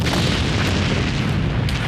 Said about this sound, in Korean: 첫 폭발 10분 후 두 번째 폭발이 공장을 뒤흔들었다.